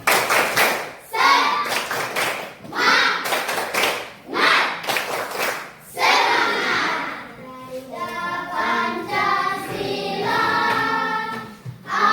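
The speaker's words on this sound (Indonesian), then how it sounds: "Sebelumnya, tepuk semangat." A class performs a rhythmic spirit clap, bursts of sharp patterned claps alternating with children chanting along, ending in a longer sung or called-out phrase.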